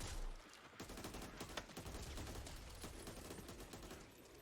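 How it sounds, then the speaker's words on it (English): Rifle gunfire in a video game crackles as a fast, dense string of shots that runs almost continuously. It is faint and distant, with no voices over it. "That's a rifle."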